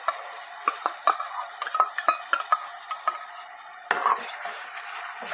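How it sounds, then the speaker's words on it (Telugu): Tomato puree goes into a pan of frying onions for a paneer cashew curry, giving a soft sizzle under a run of close metallic spoon clinks and scrapes against the pan, with no voices. "ఈ టైంలో నేనైతే టమాటా ప్యూరీ యాడ్ చేస్తున్నాను."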